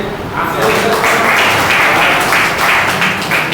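An audience applauds at a church gathering, with dense, sustained clapping that swells and holds for several seconds, a voice audible underneath.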